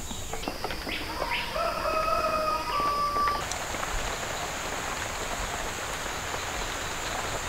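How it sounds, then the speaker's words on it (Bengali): Steady rain patters outside, a soft continuous hiss that lasts the whole stretch, with a few bird chirps over it early on and no talk. "আর বাইরে নিশ্চয়ই আপনারা টিপটাপ আওয়াজ শুনতে পাচ্ছেন, এটা কিন্তু বৃষ্টির আওয়াজ।"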